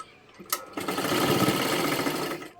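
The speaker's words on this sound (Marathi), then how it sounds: "इथून आपल्याला पूर्ण शिलाई मारत घ्यायची आहे" A sewing machine stitching a garment seam starts with a short tap, then runs at a fast, even rhythm, loud and close, with no talk over it.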